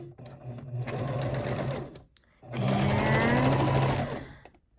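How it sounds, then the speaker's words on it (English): A sewing machine stitches through a T-shirt blanket in two loud, sustained bursts separated by a brief pause, its motor whirring close and steady. "And let's start sewing."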